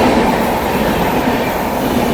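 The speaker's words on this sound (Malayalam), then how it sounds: "Thiruvananthapuram central New Delhi Kerala super fast വന്നുകൊണ്ടിരിക്കുകയാണ്." The Thiruvananthapuram–New Delhi Kerala Superfast Express, train 12625, passes at speed at Koratti Angadi in the evening, a loud, dense continuous roar with rhythmic wheel clatter from close by.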